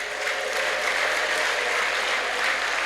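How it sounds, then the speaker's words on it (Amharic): A church congregation in Jimma applauds during a sermon, a dense, even wash of many hands clapping at once, loud and sustained throughout with no break. "አጨብጭቡለት ለቸሩ ጌታ"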